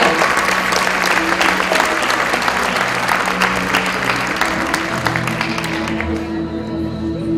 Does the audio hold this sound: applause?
yes